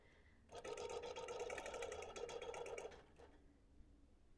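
A Bernina long-arm quilting machine stitches through mixed fabrics in a steady, fast whir with a rapid needle rhythm for a few seconds, then slows and stops; close and clear with no talking.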